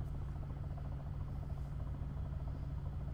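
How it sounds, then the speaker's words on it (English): Military helicopter in the video game Arma 3 drones with a steady low rotor thrum and engine buzz, constant and fairly loud, with no voices over it. "if he'd shoot that chopper out of the sky sitting right there right now"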